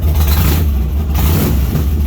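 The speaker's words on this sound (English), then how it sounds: "So when you rev it, it's really got a deep growl to it." A 2004 Kawasaki Meanstreak 1600 motorcycle fitted with Cobra pipes revs up close, a loud, deep growling exhaust that surges and falls back in quick pulses.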